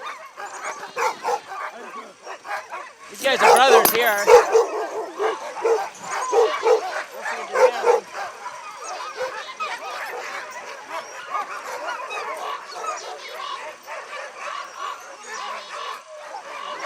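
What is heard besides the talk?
sled dogs barking and yipping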